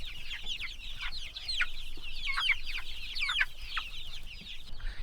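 Chickens clucking in a coop with small chicks: continuous close chirps and peeps overlap with soft clucking at low volume, steady throughout with no talking.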